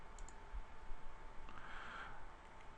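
A computer mouse gives a quick, faint double click near the start, then goes quiet against a low steady hum.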